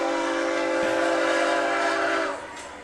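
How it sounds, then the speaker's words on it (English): A freight train rolls past near a high school football field in Wisconsin, a steady loud rumble with sustained horn-like tones that hold for a couple of seconds before fading as it moves on. "here comes the train"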